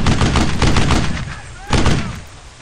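Rapid bursts of gunfire in the Brothers in Arms World War II video game, loud and continuous with a sharp volley near the end, mixed with shouted voices.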